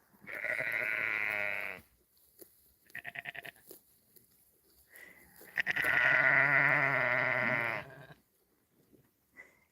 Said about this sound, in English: Yep, there's 13 lambs in this mix.